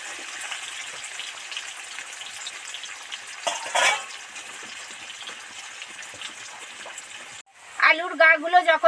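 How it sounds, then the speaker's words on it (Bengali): Potatoes sizzle steadily as they deep fry in oil, a continuous crackling hiss with a brief stir, then a voice speaks near the end. "ধরে ধরে ডিপ ফ্রাই করে আলুগুলো ভাজতে থাকবো"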